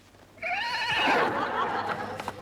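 A horse whinnies once, a loud, close, wavering neigh lasting about two seconds that fades into a breathy snort.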